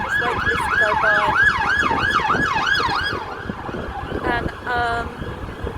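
An emergency vehicle siren wails past on a high street, its rising and falling tone loud and close before fading, while a dog barks in short bursts near the end and a voice is briefly heard.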